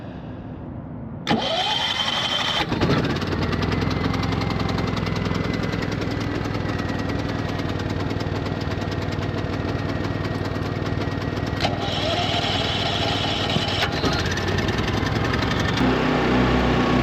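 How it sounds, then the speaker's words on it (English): A generator powering an RV at a truck stop during a snowstorm starts up and then runs steadily and loudly, a continuous close engine drone with a slight change in tone partway through. "got the generator started. Hopefully it's not too loud for this trucker."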